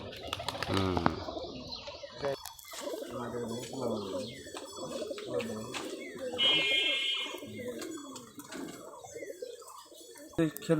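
A Geribaj pigeon cooing close by in repeated throaty phrases, with brief wing flutters and a few faint chirps, while someone talks over and between the calls.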